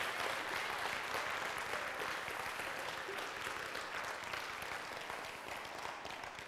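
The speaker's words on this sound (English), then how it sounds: "Let's one more big round of applause for the message of that and the work that went into that" Church audience at a Calvary Baptist choir production giving a big round of applause, a full, even roar of clapping throughout that tapers slightly near the end.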